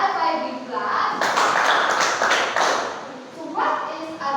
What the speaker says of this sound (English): So let's give Ajal a 5 big clap.